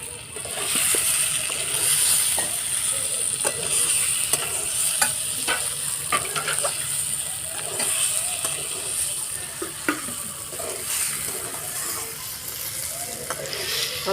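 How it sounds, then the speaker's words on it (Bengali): Fried eggs go back into a pan of simmering taro curry, where a steady close sizzle runs under frequent stirring scrapes and light taps of a spatula on metal, with no speech. "ভেজে রাখা ডিমটা এবার দিয়ে দেবো"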